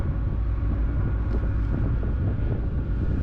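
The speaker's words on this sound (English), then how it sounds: "Look, I can actually hear like an engine down here." A Scotland Isle of Islay ferry ship's engine rumbles as a steady, loud low drone mixed with wind and rushing water, continuous throughout with no talking.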